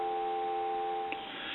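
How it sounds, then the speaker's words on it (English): A steady, continuous telephone dial tone on an old Stromberg Carlson hotel telephone hums at moderate volume, with a faint click near the end. "go ahead and answer it and give you some dial tone."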